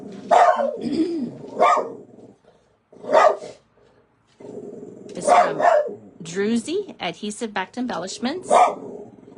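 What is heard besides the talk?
puppy dog barking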